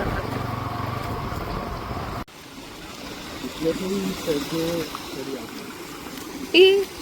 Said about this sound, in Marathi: छोटंसं वॉटरफॉल.